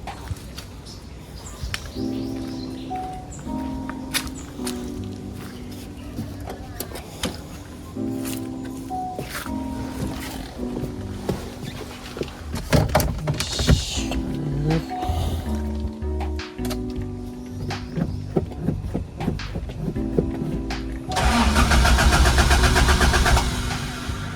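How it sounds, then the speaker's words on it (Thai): A Toyota Corolla KE70 with a faulty spark plug cranks repeatedly in several separate starter bursts that fail to catch, then the engine finally fires and revs loudly near the end, heard up close with occasional birds. "เดี๋ยวลองติดเครื่องดูครับ"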